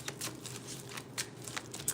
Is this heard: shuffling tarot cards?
yes